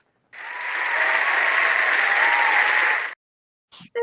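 An applause sound effect played on a live stream, a dense burst of clapping and crowd cheer lasting about three seconds that stops abruptly, followed by a short faint noise.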